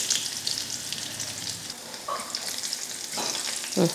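Mustard seeds and urad dal sizzle and crackle in hot oil with a steady hiss, punctuated by a few brief stirring clinks.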